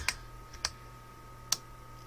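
A few separate key clicks from a computer keyboard, short and sharp, spaced irregularly over a steady low hum.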